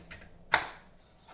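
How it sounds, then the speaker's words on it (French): A knife cuts a pear in half, giving a single sharp, close click of the blade striking the board, with faint quiet handling before and after. "on va juste prendre notre poire, on va la couper en deux"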